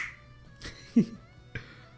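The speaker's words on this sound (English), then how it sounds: "I'll snap my fingers just in case though." A single sharp finger snap sounds close and crisp, with a softer second click shortly after, in an otherwise quiet indoor space.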